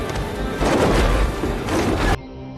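A film explosion as an airplane crashes into a mountain: a loud, sustained booming roar with rumbling swells that ends in a sudden cutoff, with no talking.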